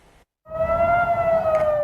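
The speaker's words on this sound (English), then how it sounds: "In northern Israel, sirens warned of rockets," A civil defense siren warning of rockets in northern Israel rises after a brief silence and holds a loud, steady wailing tone.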